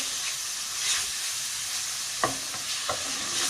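Chicken pieces frying in a pan, a steady broad sizzle throughout with two or three soft stirring knocks near the end, close and moderately loud with no voices.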